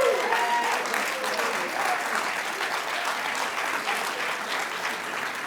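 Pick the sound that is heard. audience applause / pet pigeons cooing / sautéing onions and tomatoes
audience applause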